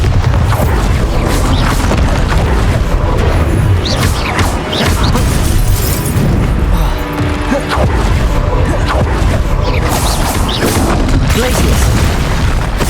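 Bombarda explosion spells blasting in Hogwarts Legacy, a dense, loud run of booms and crashing impacts that keeps going through the whole stretch of combat.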